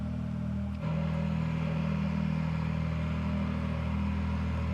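A Ferrari Challenge race car sits idling in neutral, its engine giving a steady, low, continuous rumble with one small blip near the start, loud and up close with no talking.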